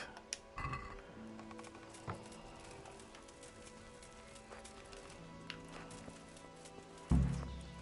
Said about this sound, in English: hop back on the horse